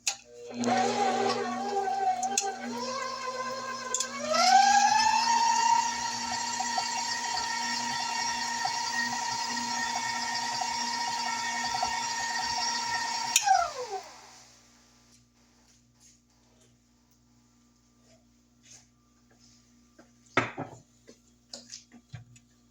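An electric mixer beats butter for a butterscotch pound cake, its motor whining loud and steady, rising in pitch early on, then winding down and stopping, followed by quiet and a couple of faint clatters.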